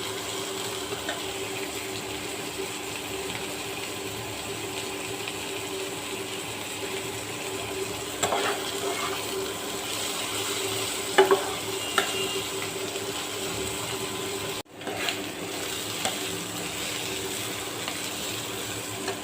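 Prawn curry cooks in a pan with only a little oil, giving a steady, even sizzle throughout, with a few brief clinks and scrapes of stirring along the way.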